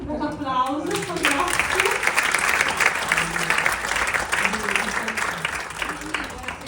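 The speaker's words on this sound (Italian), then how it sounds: "un bel applauso, grazie" A crowd at an evening event in Genoa breaks into sustained applause, many hands clapping steadily and fairly close after a brief spoken lead-in, the clapping fading a little toward the end.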